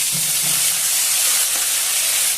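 Ginger and coriander-cumin paste hits hot oil along with cinnamon, cardamom and dried chilli, producing a loud, steady hiss of sizzling close up, continuous for a couple of seconds before cutting off abruptly.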